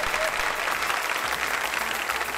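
A studio audience applauds the winners of a first-episode talk show segment, a steady, dense wash of clapping that carries through the whole moment without any talk over it.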